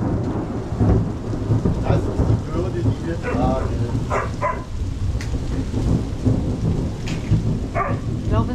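Heavy rain pours steadily with low rumbles of thunder rolling underneath, while people talk in German over the storm in Mexico.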